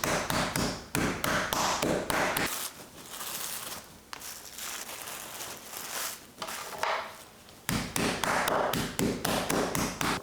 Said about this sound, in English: so we just need to pound one side